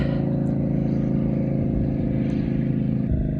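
Loud motor boat on a lake at a Colorado state park, a steady droning engine rumble that holds constant throughout without pause.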